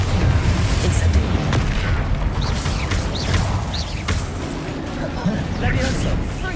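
Spell blasts aimed at a troll in Hogwarts Legacy rumble in loud, overlapping booms over a dense mechanical din, with a voice talking over the action.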